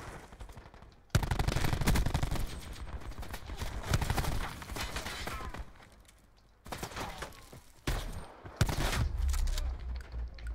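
Rapid bursts of automatic gunfire mixed with heavier shotgun blasts in a Black Ops 4 multiplayer match, loud and dense, in several clusters with brief lulls between them.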